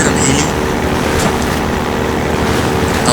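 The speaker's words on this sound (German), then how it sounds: "Es kommt natürlich wieder ein Heli." Helicopter in the video game Half-Life 2, a loud, continuous rotor and engine roar that stays close and steady throughout, with no talk over it.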